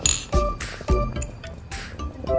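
Glasses clink together in a toast over grape juice: two sharp ringing clinks about half a second apart, followed by fainter clinks and clatter, close and clear with little talk.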